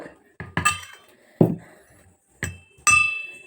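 A spoon clinks sharply against a vessel while scooping dosa batter, with about five separate bright taps spaced unevenly and heard up close.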